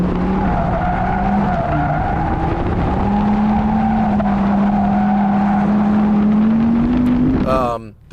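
Audi R8 GT drifting, a steady loud engine drone paired with a long, continuous tire skid that holds throughout and sweeps upward, then cuts off sharply with a brief rattle at the end.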